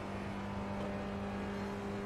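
An SRF race car on a lap at Lime Rock drones with a steady, close engine tone and constant road and wind noise, holding an even pitch throughout.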